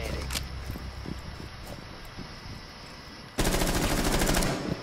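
Gunfire in the video game Rainbow Six Siege: a few scattered single shots, then a sustained loud burst of rapid automatic fire lasting over a second, close and dominant.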